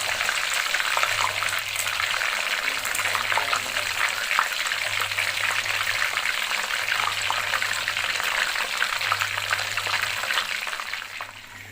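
Fish sizzling steadily in a hot electric frying pan, a continuous crackling fry with a low periodic hum underneath and no talking.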